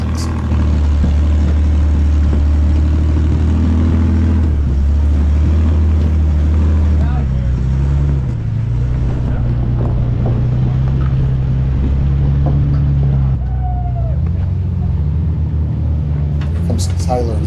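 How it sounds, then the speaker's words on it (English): A Jeep WJ-based buggy on 42-inch tires, aired down to about 3–4 psi, crawls over rocks with a loud, continuous low engine drone that rises and falls in pitch, with wind buffeting the microphone and a voice talking over it. "Here comes Tyler and his Wuggy, WJ Buggy"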